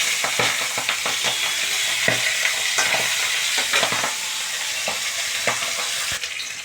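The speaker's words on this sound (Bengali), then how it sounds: "মাছটা একটু লাল করে ভাজা হয়ে গেল।" Fish fries in hot white oil in a wok, a steady close sizzle punctuated by repeated scraping stirs of a utensil, with no voices.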